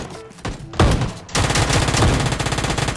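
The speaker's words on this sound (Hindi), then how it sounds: "सामने तो शॉटगन चल रही है" Shotgun gunfire in the PUBG battle royale game: loud, close bursts of rapid blasts, a few separate shots followed by a sustained stretch of rapid firing.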